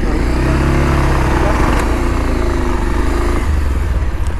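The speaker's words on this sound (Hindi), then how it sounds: "सब मेरा दोस्त लोग बाइक को दौड़ाते हुए लेके आ रहा है" Several motorbikes ridden fast by a group of friends arriving at a riverside picnic spot near Deul park, engines droning steadily and loudly up close throughout, with a rider's voice talking over the engine noise.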